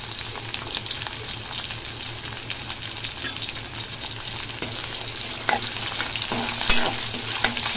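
Curry leaves, green chili and garlic fry in hot oil in a pan, a steady close sizzle with occasional stirring scrapes and small pops, no voices.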